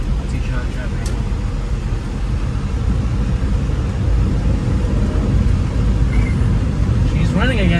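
A Honda car engine runs steadily at idle as a loud, constant low rumble that grows a little stronger partway through, with faint chirps near the end.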